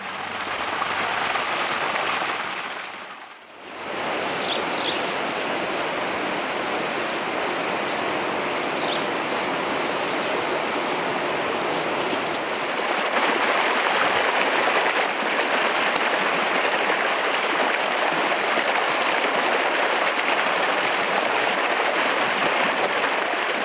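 A river flowing along a valley in Ladakh produces a steady, dense rushing wash of water that stays loud and unbroken, briefly dipping near the start before continuing with constant roaring turbulence.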